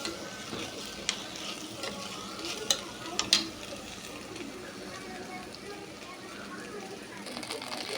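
Egyptian rice stirred and fried in oil and butter in a pan, giving a steady soft sizzle with scraping stir strokes and a few sharp clicks of the spoon against the pot.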